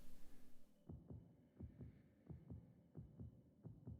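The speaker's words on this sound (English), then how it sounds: "Can hear the heartbeats." Game sound effect of a heartbeat in a Game Builder Garage backrooms game, faint paired thumps repeating at a steady, slow rhythm over a low background hum.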